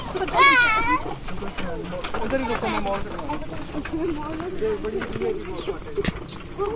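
A horse pulls a cart on a Pakistani village road, its hooves clip-clopping steadily under continuous talk and children's voices.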